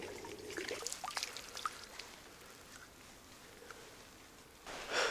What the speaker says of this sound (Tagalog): Ultimo yung mga patak ng tubig, maririnig mo sa sobrang tahimik eh